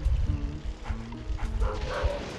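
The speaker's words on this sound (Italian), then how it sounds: "Abbaia mentre dorme." Dog barking in Luigi's Mansion, a sleeping game dog giving a few short yips and woofs over game music and background ambience.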